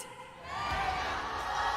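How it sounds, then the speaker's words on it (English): A crowd at an MPL Philippines esports match cheers for the winning team, a broad, loud swell of roaring voices that rises after a moment and holds steady. "All right, agents, let's cheer for the winning team."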